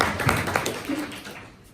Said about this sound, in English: Can I get a round of applause for those people?